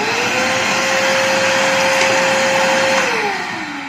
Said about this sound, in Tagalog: malakas yung blower niya guys